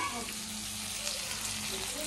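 Food sizzles and fries in a wok, a steady, close hiss of hot oil that holds at an even level throughout, with faint background sounds underneath.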